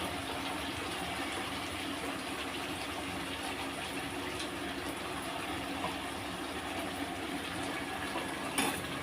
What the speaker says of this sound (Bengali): এবার আমি দিয়ে দিচ্ছি মশলা ধোয়ার জলটা।